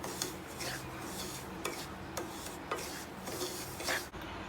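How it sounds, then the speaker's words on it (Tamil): Semolina (rava) being fried over a medium flame for carrot kesari, a spoon scraping and stirring it around the pan in steady repeated gritty rasps, close and fairly quiet, with no talking. "ரவை மீடியம் ஃப்ளேம்லேயே ஃப்ரை பண்ணணும்."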